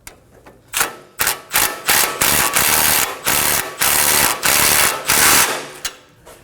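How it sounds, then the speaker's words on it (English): A ratchet with an 18mm socket tightens a sway bar link nut on a 2017-2024 Nissan Armada, giving quick bursts of close, loud clicking in uneven strokes with short pauses between them; no one speaks. "on this side, we're gonna use an 18mm socket to get the nut snug"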